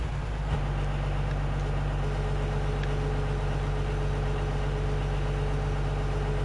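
A tractor engine idles in the Farming Simulator 2013 game, a steady low droning hum that holds at an even, fairly loud level with no talking.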